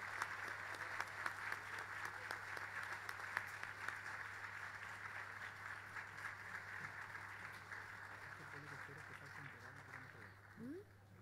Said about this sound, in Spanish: Un fuerte aplauso en reconocimiento a nuestro secretario municipal, don Jorge Guayco Madrid.